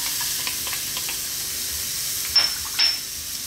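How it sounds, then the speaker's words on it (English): Chopped onion sizzling in a little olive oil in a tiny pan, a steady bright hiss with a couple of sharper spatter bursts near the end. "We're gonna just fry the onions and that off on a pan with a little bit of olive oil"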